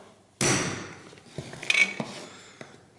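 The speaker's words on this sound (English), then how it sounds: "I'm going to use a small hole punch. This will guide the drill bit." A hammer strikes a small hole punch set on metal, one sharp loud tap followed by several lighter, quicker taps with a faint ringing, close up and without voices.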